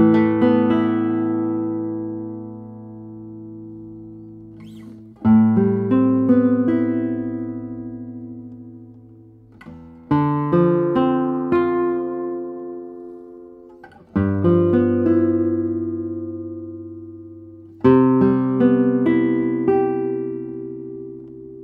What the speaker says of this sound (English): It's a very light guitar, and it reminds me also a little bit of Ramirez guitar and of course Santos Hernandez guitars.